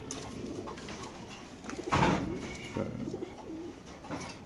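Caged racing pigeons at a market sale coo in low, throaty bursts, the strongest call near the middle, over a constant background hum and faint bustle.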